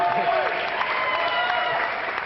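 Audience applause at a startup pitch event, a dense continuous wash of many hands clapping, moderately loud and steady, with a voice briefly heard over it.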